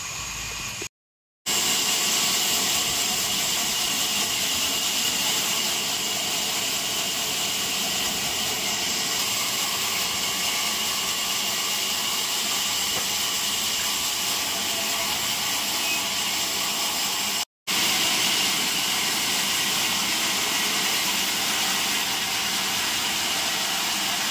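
A sawmill machine rips through tree logs with a loud, steady roaring whine. It runs continuously, with two brief silent cuts.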